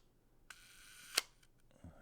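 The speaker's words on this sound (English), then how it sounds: "The curtain shutter" A Leica IIIf camera's curtain shutter fires once, giving a single sharp, close mechanical click after a faint winding whir, with no voices.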